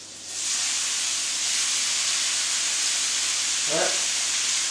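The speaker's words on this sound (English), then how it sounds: "we're going to get that little bit of butter in this cast iron. We're going to start rendering some of that fat" Butter sizzles in a cast iron pan as fat renders, a steady close broadband hiss that holds constant throughout, with a brief low knock near the end.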